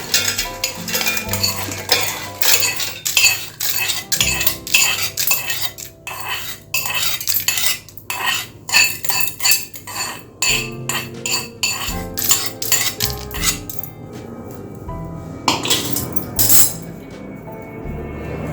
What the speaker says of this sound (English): Now I am adding all the seasoning ingredients into a mixie jar.